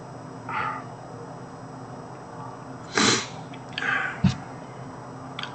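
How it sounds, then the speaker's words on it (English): A single sharp sneeze bursts out near the middle, with a couple of fainter sniffs and a short snort around it in an otherwise quiet room. "sneeze"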